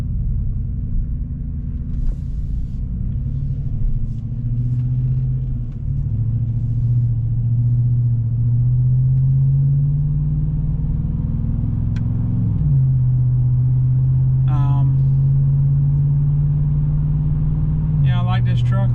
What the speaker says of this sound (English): And I'm sure the exhaust will do its magic.